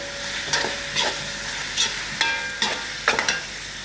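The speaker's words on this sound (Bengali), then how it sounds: "টমেটো দিয়ে দিলাম, 4-5 মিনিট লাড়তে থাকবো টমেটোটা নরম হওয়া পর্যন্ত" Tomatoes frying in a pan with a spoon stirring through them: a steady soft sizzle broken by repeated scraping strokes about every half second, close and alone with no voices.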